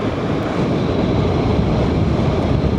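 Steady, loud wind buffeting the microphone while riding a motorcycle across a bridge over a river, a dense continuous low roar with no let-up and no voices.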